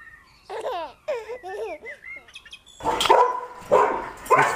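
A dog barks excitedly and repeatedly in a house, with shrill yelps and whining followed by louder, rough barks, close and lively.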